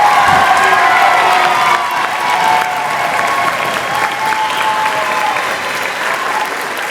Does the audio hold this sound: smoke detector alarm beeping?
no